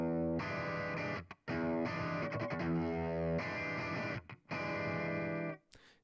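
Distorted electric guitar played through two cabinet impulse responses that are out of phase, sounding dull and muffled, with sustained chords and short riffs broken by brief pauses.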